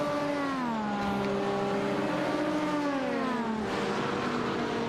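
Race cars in an IMSA sim racing game at Le Mans, an LMP2 going off track, heard as a steady loud engine drone with harmonics that sweep and fall through gear changes, continuous and near.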